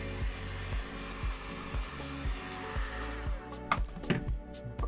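A hot air tool blows steadily, its loud continuous whoosh carrying a faint rhythmic pulsing as it heats and curls plastic pieces for a Sister of Battle helmet, with no voices.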